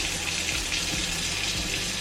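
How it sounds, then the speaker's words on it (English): Water draining from rinsed basmati rice, a steady close running and trickling flow with no voices. "I'm gonna try to get all the water out of it without dumping the rice"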